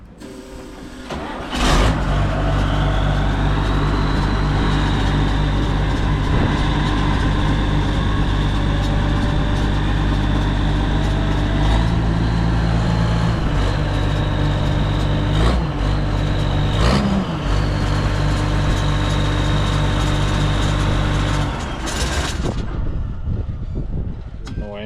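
A combine harvester with a weak battery cranks and catches, then settles into a loud, steady diesel run close by, the exhaust directed onto a tire, with a few brief knocks and changes in the engine note.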